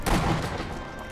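A single gunshot in the video game Sniper Elite V2, a loud blast at the start with a rumbling tail fading over about a second, heard alone.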